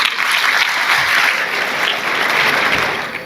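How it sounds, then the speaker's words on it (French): Loud, dense applause from a large audience fills a hall at a national week event for Arabic-speaking pupils and students in Mali, a steady roar of many hands without pause. "Alors veuillez l'applaudir."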